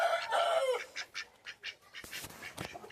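Chickens cluck and squawk close by, a loud burst followed by shorter calls, with rustling and scuffling noises.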